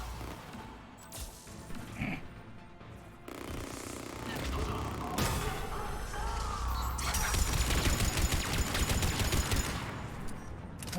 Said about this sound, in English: It's just shooting into that rock